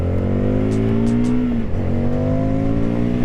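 A 2022 Indian FTR Championship Edition motorcycle accelerates hard in a pull test, its loud engine note climbing steadily, dropping briefly at a gear shift, then climbing again, with no talk.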